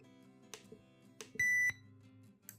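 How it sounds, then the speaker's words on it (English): A Sony XDR-V20D portable DAB radio gives a single short electronic confirmation beep, clean and close, amid soft faint clicks and a quiet background. "We can turn off or on the beep"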